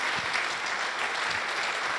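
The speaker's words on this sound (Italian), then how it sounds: "fate prolungare l'applauso" An audience applauds at a football event in Italy, the clapping steady and dense throughout, like a full room keeping up a sustained ovation.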